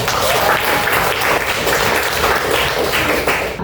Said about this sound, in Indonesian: Tepuk tangan buat kelas 10 saya.